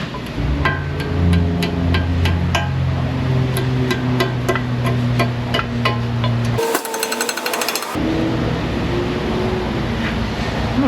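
Repeated sharp metallic hammer blows drive a car axle back into place on a Honda Accord, a steady run of strikes over a low machine hum, with a brief burst of harsher clatter near the end.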